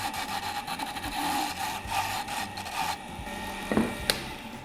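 A wooden pen blank spinning on a lathe, being turned down toward the bushings: a steady, close whirring hum with continuous scraping texture, a couple of brief sharper catches near the end, no talking.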